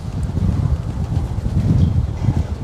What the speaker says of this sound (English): Wow, these wind gusts or something.